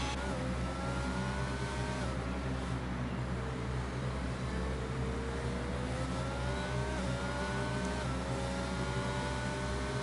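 Formula 1 car engine in a racing game at the Netherlands circuit: a continuous loud high-revving whine with repeated rising pitch sweeps through gear changes, with no voices.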